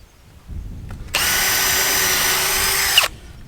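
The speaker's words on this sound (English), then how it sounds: "We're going to pre-drill" A power drill with an 8mm bit whirs loudly at high speed for about two seconds, pre-drilling into a wooden post, then cuts off abruptly.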